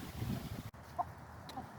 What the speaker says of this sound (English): From here you can see the chickens.